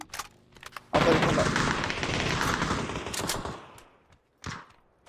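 Rapid automatic gunfire in the battle-royale game PUBG, a loud sustained burst of shots lasting several seconds, with a short further burst after a pause.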